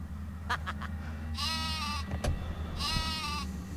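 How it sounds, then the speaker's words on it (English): Two bleats from the sheep weapon in Worms Armageddon sound over game background noise, each a wavering, buzzy cry with short clicks before them, and no talk. "Sheep."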